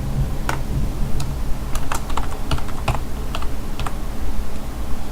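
Steady typing on a computer keyboard in a spreadsheet program, with irregular clacking keystrokes and a few sharper key presses, including the enter key, close and alone over a low background hum.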